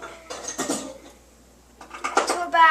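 A pot or pan is handled on a kitchen stovetop as cooking begins, giving two clusters of metallic clanks and scrapes separated by a short quiet gap.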